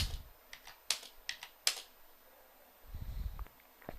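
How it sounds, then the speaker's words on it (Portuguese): Keys tapped on a computer keyboard while editing a web page in Dreamweaver CS5, a few sharp separate clicks close by in a quiet room, followed by a short low rustle and one final click. "Vou dar Enter para separar esse conteúdo do parágrafo."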